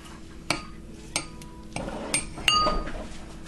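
Kitchen knife grabbed from among utensils while making stuffed peppers, a handful of sharp metallic clinks and clatters spaced about half a second apart, close and clear.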